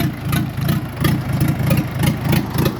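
An Orion 404 tractor's KM490 diesel engine idles loudly nearby, a steady low rumble with a regular pulsing throb and no voices.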